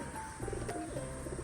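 Pigeons feeding on paddy grain coo softly in low, rolling murmurs over a steady background hiss, the calls close together and fairly faint, with no talking.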